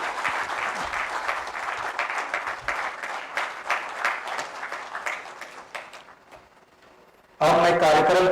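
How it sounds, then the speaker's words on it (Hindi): Audience applause at a formal honouring ceremony of the Jharkhand Administrative Service Association in Ranchi, steady and fairly close for about six seconds before fading into near silence, then a voice breaks in at the end. "जोरदार तालियों से सर का स्वागत हो।"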